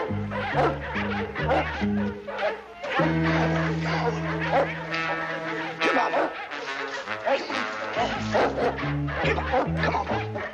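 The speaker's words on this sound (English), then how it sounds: "It sounds like every mutt in town's at it" Several dogs barking and yipping all over a town, a dense overlapping chorus set against music in a Bonanza western episode, continuous and fairly loud throughout.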